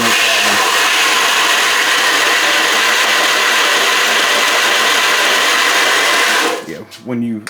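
Revolution 2x72 belt grinder fitted with a waterfall platen runs at a steady, loud whir with no break, then winds down near the end as the belt and motor spin down.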